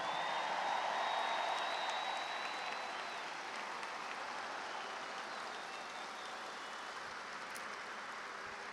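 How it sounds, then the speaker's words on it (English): Sustained stadium crowd applause at a baseball retirement ceremony for Cardinals players Molina and Pujols, a broad steady wash of clapping and cheering that swells early and then slowly thins, with no voices over it. "Give them a huge round of applause, please."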